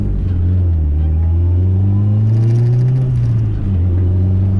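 E85-tuned car on straight ethanol making a third-gear pull, its engine note climbing steadily in pitch as it accelerates hard, loud and close from start to finish.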